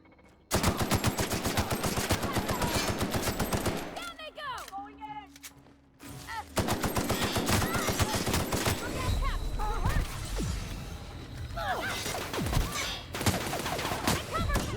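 Gunfire in the video game The Outer Worlds: rapid bursts of automatic weapon fire crackle loudly almost continuously, broken by a short lull with other game sounds before the shooting resumes.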